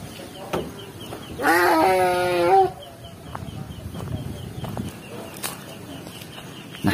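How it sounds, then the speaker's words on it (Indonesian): A single drawn-out sheep bleat, about a second long and fairly close, rises out of quiet open-air farm ambience on a sheep farm, with faint scattered clicks and knocks around it. "saya melihat memang banyak domba ya, peternakan domba"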